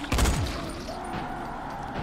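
Gunfire in the zombie game Dying Light: a loud close burst of shots near the start, then fading into a lower rumble of game ambience.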